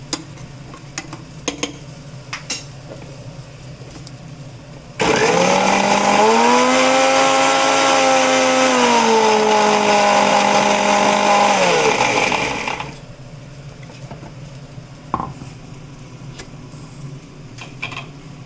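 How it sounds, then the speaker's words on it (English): A blender blending ginger root and water starts up loud and whirs steadily for about eight seconds, its pitch rising slightly, then cuts off, leaving faint clinks and room noise. "add in a little bit more water and try to blend all the ginger roots also"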